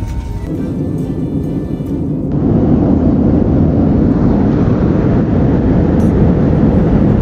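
Airplane engines roar during flight in a loud, steady broadband rumble that swells partway through and then holds constant, with no speech over it.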